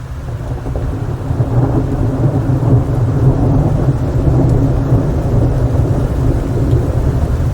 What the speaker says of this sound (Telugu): వర్షం అయితే పడుతుంది, బయట ఉండేమో